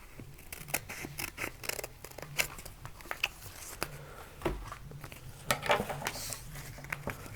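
Scissors snip through a square of transfer tape for a Cricut vinyl project: a series of sharp, close cutting clicks in an irregular rhythm, with light rustling between the snips.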